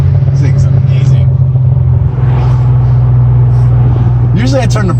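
A V6 car's exhaust burbles with a loud, close, steady low drone that holds throughout, while people talk over it.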